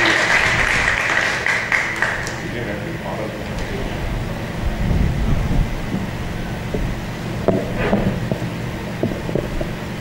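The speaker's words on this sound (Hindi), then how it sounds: "आपकी तालियों में हम उनको वेलकम करते हैं" Church congregation at a Friday prayer service claps to welcome a pastor, the applause fading after a couple of seconds into a low hum with scattered claps and some talk.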